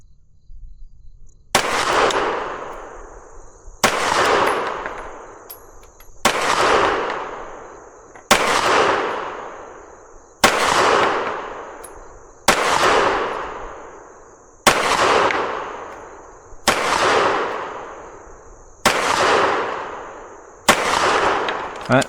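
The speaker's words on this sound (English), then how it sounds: "let's go ahead and shoot a quick group here" A P30L replica pistol with a non-ported Wicked compensator fires a slow group of about ten evenly spaced shots, each a sharp loud crack with a decaying tail, heard up close with no talk.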